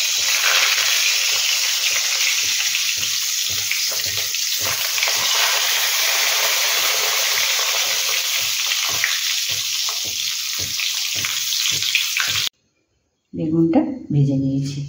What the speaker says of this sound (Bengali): এবার বেগুনগুলোকে ভালো করে ভেজে নিতে হবে।